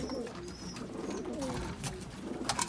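Soft, low pigeon cooing rises and falls against a busy outdoor background, with faint chirps and rustling noise throughout.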